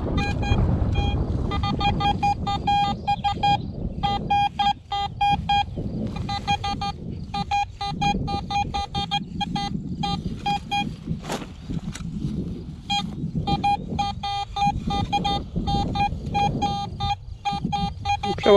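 Beeping tones from a Vista X metal detector fitted with a 14-inch coil, swept over a rubbish dump full of rubble: repeated steady electronic tones in short bursts over a rumbling, wind-buffeted background, with talk at times.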